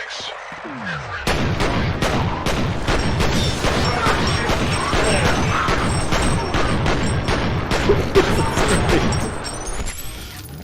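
Rapid, loud gunshots in a VR video game, a dense volley of sharp reports firing continuously for several seconds after a brief quiet start, then cutting off near the end.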